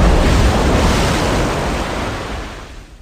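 Ocean waves break on a prehistoric beach, a loud, broad rushing wash of surf that slowly fades as the water recedes, with wind noise and no voices.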